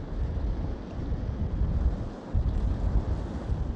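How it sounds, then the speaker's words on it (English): Strong wind on South Shields Pier by a rough sea buffets the microphone in a steady, roaring rumble, with a brief lull midway before it gusts back. "because it's so windy"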